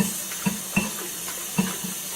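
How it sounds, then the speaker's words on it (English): Tap water trickles steadily at a sink while medicinal leeches are rinsed, a close, low running flow with a few soft splashes and knocks over the top. "I use the tap water to wash them"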